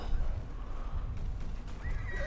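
A zebra-like horse (Equus) in the video game Ark neighs loudly and close, a single drawn-out whinny over rumbling ambient game noise.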